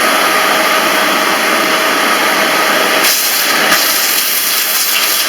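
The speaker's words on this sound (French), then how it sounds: "vous allumez votre aspirateur, vous mettez simplement comme ça dessus" Loud, steady whooshing roar of a vacuum cleaner running close by over a TV decoder, the tone dipping briefly a couple of times as the airflow changes.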